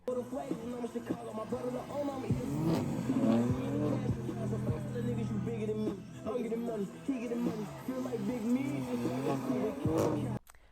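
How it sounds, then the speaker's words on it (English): BMW M3 G80 drifting donuts, with a revving engine rising and falling in waves and repeated tire squeals, heard at moderate distance under a busy outdoor mix. "doing like 5 or 6 donuts around the car with the rapper standing in the middle of it"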